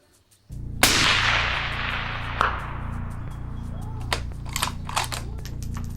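A 6mm ARC rifle with a Proof Research barrel firing at a target 380 yards out: one loud sharp shot followed by a long rolling echo, then a fainter crack and scattered clicks.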